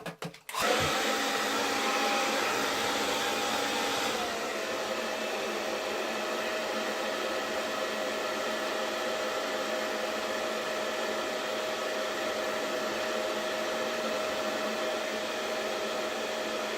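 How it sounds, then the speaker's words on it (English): A hair dryer heating moustache wax blows continuously at close range, a loud steady whooshing roar with a faint whine that shifts slightly in pitch early on. "heat this up with the hairdryer"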